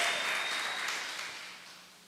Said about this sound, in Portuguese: Por favor, aplauda o Senhor de novo